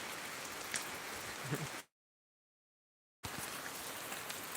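Rain falls steadily in the countryside with an even hiss of drops on surfaces and one short silent gap midway.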